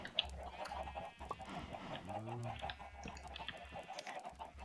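Chickens in the Minecraft video game cluck in short, scattered bursts over a noisy background, with a brief rising squawk near the middle; the sounds are fairly faint.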